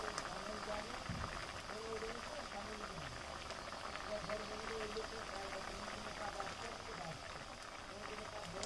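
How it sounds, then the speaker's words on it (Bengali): Mixed dal boiling in a pot, a steady low bubbling and simmering that runs throughout under a voice talking. "দেখতে পাচ্ছেন আমাদের ডালটি সম্পূর্ণ ফুটে গেছে"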